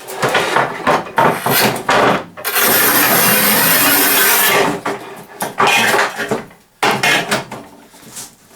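A manual tile cutter scores and snaps thin strips from textured tile. A long steady scraping rasp runs through the middle, with shorter scrapes, knocks and clatter before and after it, all close by.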